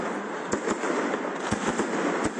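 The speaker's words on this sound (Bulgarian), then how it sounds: "Във Варна зарята в първите минути на годината можеше да се види от почти всяка точка в морската столица." New Year fireworks over Varna, the Bulgarian seaside city, with several sharp distant bangs spread over a steady crackling hiss, moderately faint and with no voices.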